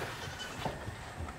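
Goats on a farm bleat in short, fairly faint calls against a low outdoor background.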